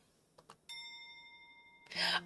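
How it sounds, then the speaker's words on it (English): A bright service bell chimes once in the video game Murders & Memoirs, a clean sustained ring that hangs briefly before a louder burst of game noise cuts in. "Click the service bell to call your first customer."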